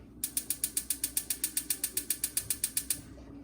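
A stove burner knob being turned down to low heat, giving a quick run of about twenty sharp, evenly spaced ratcheting clicks close by, with no talking.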